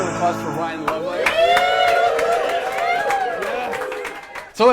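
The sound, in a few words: audience applause for Ryan Lovelace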